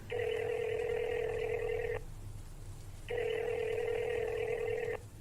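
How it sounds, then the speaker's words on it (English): A mobile phone rings out on a call, two long electronic ring tones separated by a short pause, clear and close. "Bradley takes out his phone and calls Danny."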